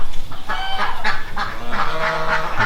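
Geese and ducks honk outdoors on a humid summer day, loud and close, with a rapid, overlapping run of nasal honks and quacks filling the whole stretch.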